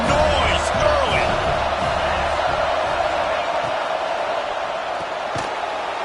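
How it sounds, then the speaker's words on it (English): Football stadium crowd roaring in a steady, dense wash of noise that fills the whole stretch, with a few sharper shouts and bangs poking through and a commentator talking over it. "This crowd bringing the energy and noise early."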